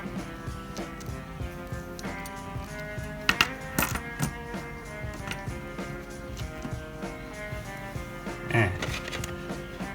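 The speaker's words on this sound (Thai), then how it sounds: "ทีนี้ก็มาใส่เฟือกด้านนะฮะ" Small plastic gears fitted onto a Tamiya Mini 4WD Super XX chassis make light, close clicks and ticks, scattered and irregular, with a couple of sharper snaps, over faint background music.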